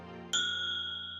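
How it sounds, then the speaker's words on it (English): A front desk bell gives one bright metallic ding that rings on with a clear sustained tone over a faint low background hum. "The front desk bell dinged."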